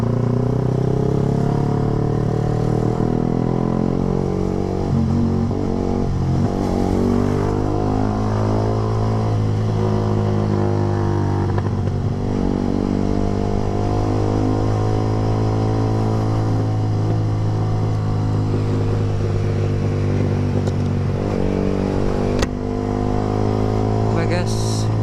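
Yamaha R15 V3 motorcycle engine while riding to Bintaro, with a steady loud hum of engine and wind throughout and shifting pitch as the throttle changes. A rider talks over it.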